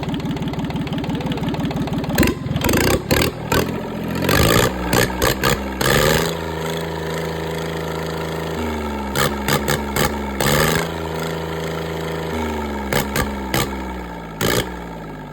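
A Yanmar 3TN63 three-cylinder 13-horsepower diesel engine idles steadily with a low, lumpy rumble, interrupted by several sharp bursts of revving to around 3000 rpm and knocking clatter, close and loud.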